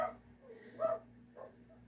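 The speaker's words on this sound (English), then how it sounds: "My little doggy's barking." A small dog gives a couple of faint, distant barks over a low steady hum, quiet and brief.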